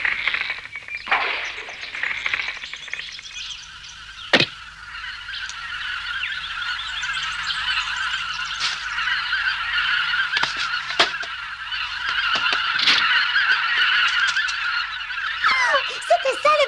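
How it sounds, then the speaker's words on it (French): Wild ducks honking loudly and repeatedly in a cartoon, overlapping calls from a nearby flock, continuing steadily with a few sharper squawks. "C'était ça le bruit, les canards sauvages sont revenus."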